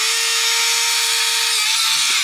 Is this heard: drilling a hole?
yes